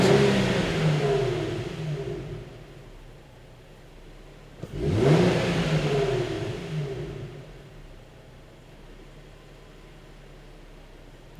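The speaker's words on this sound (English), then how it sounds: "we're going to rev the engine up a few times" A car engine hums steadily, then surges in a quick single rev around midway before settling back to a low idle during an electronic throttle relearn; no voices.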